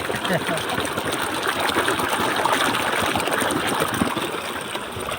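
On a natural farm, irrigation water pours into the field in a steady, dense, loud gushing rush that continues without a break, close by.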